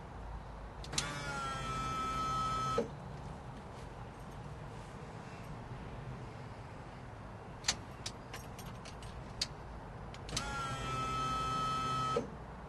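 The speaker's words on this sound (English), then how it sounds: "you'll actually hear the fuel pump run by itself this time" An electric fuel pump in a Chevy square body truck whines for about two seconds after the key is switched on, then falls quiet. A few faint clicks follow before a second, matching whine near the end, heard close with no talking.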